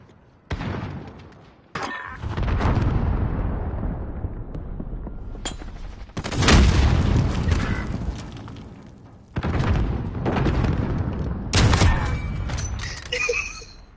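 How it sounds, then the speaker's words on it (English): Cruise missile strike in a 12 v 12 Search and Destroy video game match, heard as several loud booming explosions in bursts, each with a long rumbling decay, coming close together over about fourteen seconds with no talk. "Allied cruise missile away."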